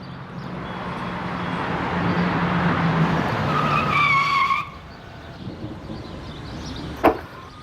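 A motorbike rolls in with a rough engine drone and a shrill tire skid, then cuts out abruptly into quiet, followed by a single sharp clack.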